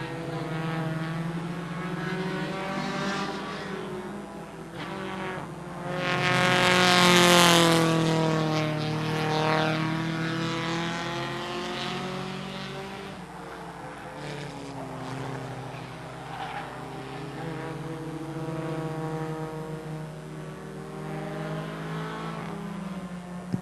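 Race cars in an 8-lap qualifier on a super short track, engines droning steadily with a louder pass sweeping close by midway, then settling into a continuous buzzing roar as the pack circles.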